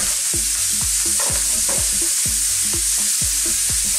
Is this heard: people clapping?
no